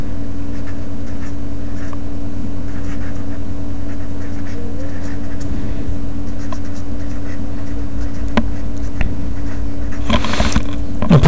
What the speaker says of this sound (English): First we have to write this Schrödinger equation for a particle